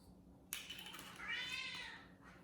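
A kitten's drawn-out meow, faint and somewhat distant, stretching over about two seconds in a quiet home, with no talk over it.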